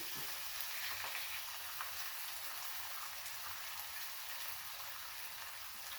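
Ham sizzles and crackles steadily in a hot 8-inch Wagner cast iron skillet, a constant bright frying hiss with occasional small pops, close by and uninterrupted.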